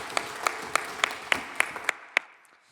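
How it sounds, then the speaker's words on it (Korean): Scattered, slightly uneven claps from a small church congregation, about eight sharp hits that trail off into quiet. "우리 하나님 아버지께 영광의 박수를 올려드립니다."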